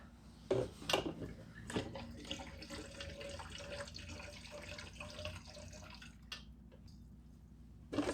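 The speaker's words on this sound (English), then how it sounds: "So let's put some more fuel in it." Fuel poured into the tank of a vintage moped, a faint steady trickling stream with small splashes and clunks at the start and end, no talking.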